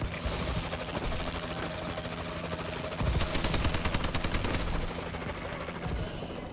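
A warbird aircraft rumbles overhead in Call of Duty: Advanced Warfare, a continuous rotor-like drone laced with bursts of rapid gunfire, loudest around the middle, in busy game audio.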